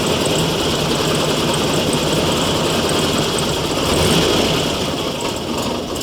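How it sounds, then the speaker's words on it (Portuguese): A Volkswagen Variant engine with over-advanced ignition timing runs roughly and unevenly, a loud, close, continuous mechanical drone with a slight surge toward the end. "Então o motor aqui, ó, como ele está muito adiantado, ó, o funcionamento dele é muito irregular."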